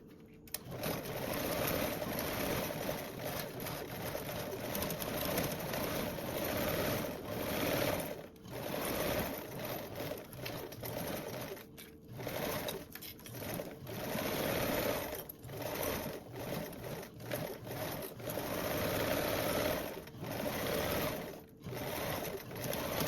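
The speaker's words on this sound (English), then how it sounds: "I'm going to baste around with a 1/8 seam allowance." Sewing machine basting a seam with an eighth-inch allowance on a mesh garment, a close steady mechanical stitching rattle running in bursts with brief pauses throughout.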